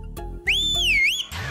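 A person whistles one loud, clear note that slides up, wavers and dips, then stops abruptly. It is short and close, with faint background noise around it, in a Telugu comedy film scene.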